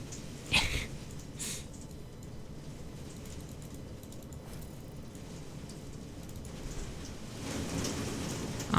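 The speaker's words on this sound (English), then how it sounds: "can you guys hear the rain?" Steady rain hiss fills the background throughout, a constant wash of falling rain outdoors heard from indoors, with a couple of brief louder knocks near the start and the downpour swelling toward the end.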